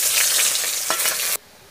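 Dried chilli, nigella seeds, chopped onion and garlic hitting hot mustard oil in a kadai, giving a loud, dense sizzle that cuts off abruptly after a moment.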